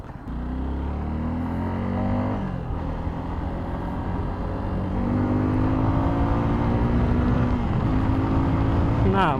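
A heavy 250cc motorcycle, a Yamaha FZ25 or Suzuki Gixxer 250, drones steadily while ridden at speed, its engine note rising and falling slightly as it pulls, loud and continuous throughout.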